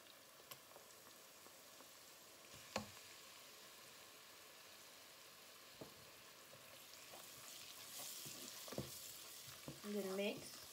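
Soft sizzling in a pan as tomato paste is stirred in while cooking turmeric rice, with faint scrapes and a few clinks, growing slightly louder toward the end.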